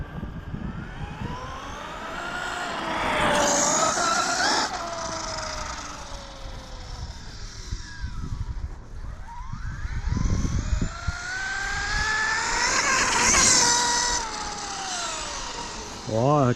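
A 1/5-scale car running on a 12S battery accelerates in repeated bursts, its high motor whine climbing and falling as it passes near, with people talking in the background.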